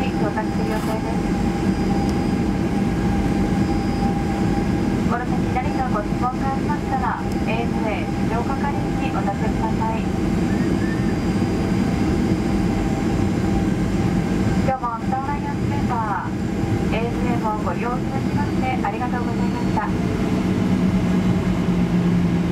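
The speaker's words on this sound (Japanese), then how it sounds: "飛行機はターミナル5番ゲートに到着する予定です。" Steady cabin roar of an ANA aircraft taxiing to the gate after landing at Miyako Airport on a short flight from Naha, a loud continuous engine and air hum with Japanese cabin announcements spoken over it throughout.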